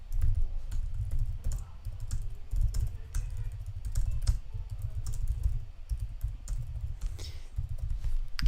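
Steady typing on a computer keyboard during a livestream, with rapid irregular key clicks continuing throughout over a low background hum, close to the microphone.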